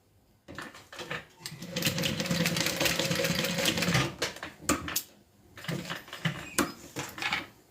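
Sewing machine stitching a reversible scarf, running in a steady rapid whir for about three seconds, then short stop-start bursts of stitching with clicks between, close and fairly loud.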